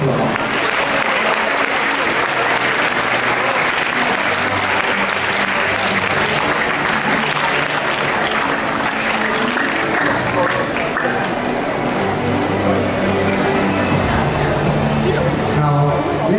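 Loud, sustained applause from a school investiture audience honoring outgoing peer support leaders, dense clapping filling the room continuously with music and voices mixed underneath.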